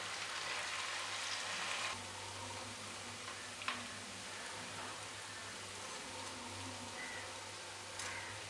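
Pappadam vada fry in hot oil with a soft, continuous, rain-like sizzle, heard quiet and close, with a couple of brief clinks and no voices.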